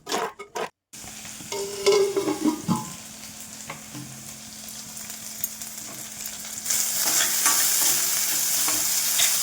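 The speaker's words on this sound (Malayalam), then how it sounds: "നല്ലതുപോലെ ഇളക്കി ചേർത്ത് അടുപ്പത്ത് വേവിക്കാൻ വെക്കാം" A spoon stirs and scrapes through a thick lemon curry with chili powder in a pan, with a steady low sizzle underneath that grows brighter and louder toward the end.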